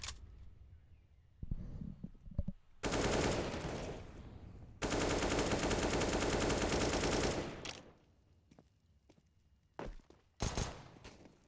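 Bursts of rapid Mac 10 gunfire in a Counter-Strike match on Inferno, a few short loud volleys and a long sustained spray, between quieter footsteps and pauses.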